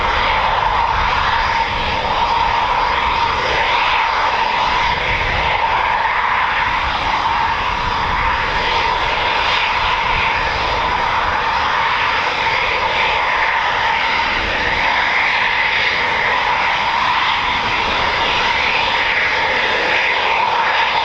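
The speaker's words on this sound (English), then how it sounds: "the first time a pilot gets into a Typhoon, this is what they do, a couple of taxi runs" A Eurofighter Typhoon FGR4 jet taxis at RAF Coningsby, giving off a loud, continuous engine roar with a steady high whine. The sound holds constant for about twenty seconds without a break.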